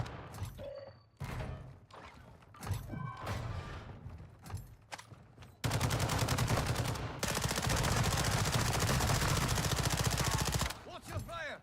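Gunfire in Call of Duty DMZ: scattered single shots and short bursts, then a long, loud sustained stream of automatic fire close by, with voices talking over parts of it.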